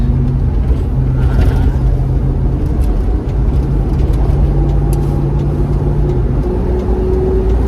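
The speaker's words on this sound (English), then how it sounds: "just going to give her a bit of gas just here" A Range Rover Classic engine drones loudly from inside the cabin while driving, with road rumble underneath and a faint rise in pitch as gas is applied.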